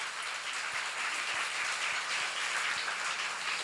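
A congregation at a church seminar claps together, a steady, even wash of many hands with no breaks, heard from a short distance and holding a constant level throughout.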